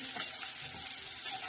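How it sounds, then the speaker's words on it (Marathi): Cumin seeds with curry leaves and ginger sizzling in hot oil for a tempering for a chana dal and onion dish, a steady close crackling fry that holds evenly throughout with no talking. "जिऱ्याची फोडणी,"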